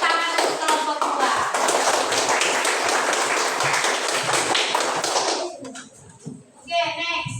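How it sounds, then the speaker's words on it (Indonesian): A classroom group claps for another group presenting, a dense burst of hand claps lasting several seconds before fading out into quieter sounds and brief talk. "Tepuk tangan untuk kelompok 2."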